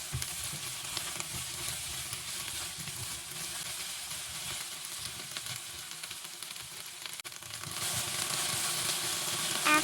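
Chopped okra and potato fry in a pan, giving a steady, moderately quiet sizzle that grows louder and brighter near the end, with occasional stirring scrapes.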